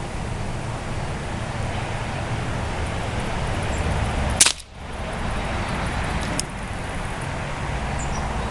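A Crosman CR357 .177 caliber CO2 air pistol revolver fires one sharp crack, followed a couple of seconds later by a fainter second snap, over steady outdoor background noise.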